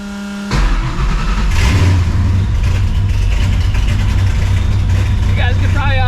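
Cammed, Procharged New Edge Mustang GT catching on a cold start after a brief crank, then settling into a loud, lumpy, choppy idle right up close, with supercharger whine rising and fluctuating near the end.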